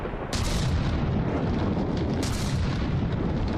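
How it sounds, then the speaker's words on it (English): Mortar shells striking a ship in the From the Depths video game, two sharp impacts about two seconds apart over a heavy, steady rumble of battle, with no talking. "We had some beautiful hits with the mortars there"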